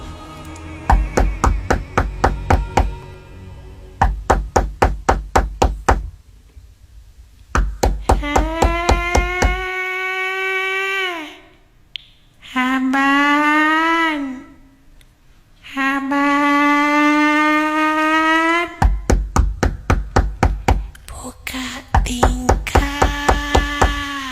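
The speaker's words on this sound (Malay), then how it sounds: "bunyi ketukan." Rapid, loud, close knocking comes in repeated bursts of quick raps, broken up by long sustained whining tones between the runs.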